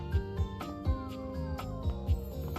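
A cat meows inside the Date Everything video game, set against looping game music with soft, regular low thumps.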